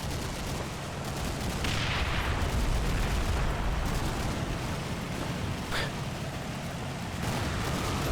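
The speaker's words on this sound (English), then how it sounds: "Some more explosions of that ammunition at Panzer IV." Panzer IV ammunition exploding in a Combat Mission: Battle for Normandy war game, heard as a dense, continuous roar of rumbling blasts and crackling bursts, loud and sustained with no speech.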